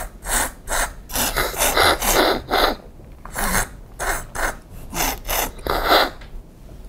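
Repeated loud, close slurps of room-temperature Earl Grey tea during a tasting, a run of short noisy bursts in an uneven rhythm with brief pauses and no talking.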